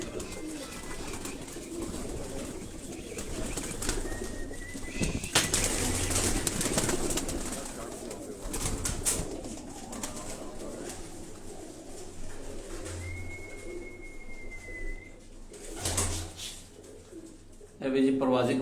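Pigeons coo softly nearby on a Karachi rooftop among general outdoor bustle, with someone talking over them and a couple of brief high whistling tones.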